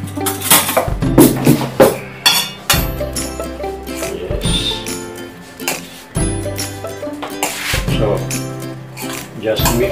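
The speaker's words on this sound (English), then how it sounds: "so I will now add the beef. And then just mix it." Beef sausage farce being mixed in a bowl, with repeated clinks and clatters of a utensil against the dish and soft wet stirring in between, close and fairly loud.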